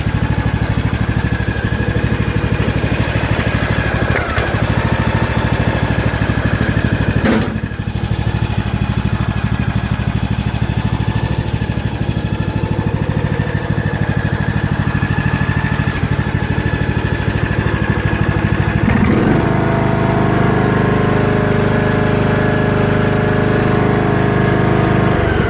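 A repaired tractor engine runs at a steady idle, a loud, continuous close-up chugging drone that holds for the full stretch and deepens slightly in tone near the end, with no voices.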